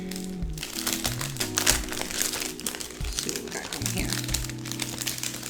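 Foil sticker packaging crinkles and crunches steadily as it is handled and opened, close up, with a person talking over it.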